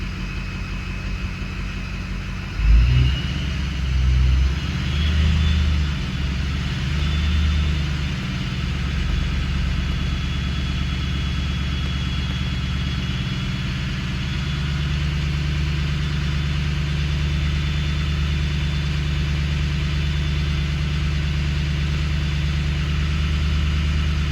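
A Ford 6.0 Powerstroke diesel engine at hot idle, a steady close low rumble after a brief louder burst near the start, holding an even drone to the end with no talk.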